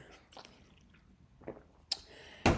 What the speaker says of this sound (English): I was drinking from my 40-ounce hydro flask.